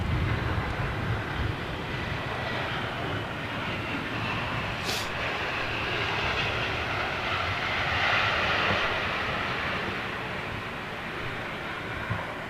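A Lufthansa Airbus A321 jet in old retro livery passes at a distance, a steady broadband engine roar holding evenly throughout with no voices.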